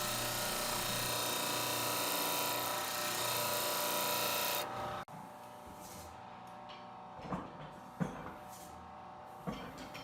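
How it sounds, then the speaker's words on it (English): A jigsaw cuts plywood shelf stock with a loud, steady buzz for about five seconds, then stops abruptly; afterwards a disc sander runs more quietly with intermittent scraping contacts as the wood is pressed against it. "I'm just going to cut it close to the line with my jigsaw, and I'll bring it over to my disc sander"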